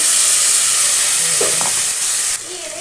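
Ground tomato added to fried onions in a pan gives a loud, steady, close hissing sizzle that drops slightly near the end, with faint clatter from the pan.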